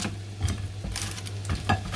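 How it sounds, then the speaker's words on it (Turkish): Zucchini fritters in a hot frying pan give a soft steady sizzle, broken by several scraping stirs and light clinks of a utensil against the pan, close by with no voices. "Bir taraf şeyleri kızartıyorum. Mücverleri, kabak köftelerini."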